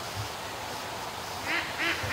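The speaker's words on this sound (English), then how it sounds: "Look at that for a mess of ducks underneath the tree" A mess of ducks bunched under a tree on a free-range duck farm, several short nasal quacks coming in a quick cluster near the end, fairly faint against a quiet outdoor background.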